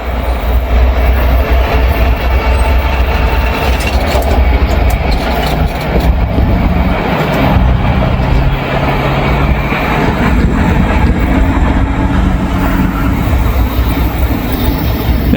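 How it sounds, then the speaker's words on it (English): CSX freight train with a DPU locomotive rolling past in Walton or Richwood, Kentucky, a loud, close, continuous rumble of wheels and cars with faint squealing, sustained for the whole stretch. "DPU coming through."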